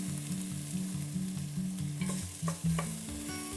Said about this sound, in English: You can add bacon. We will saute this around 5 minutes.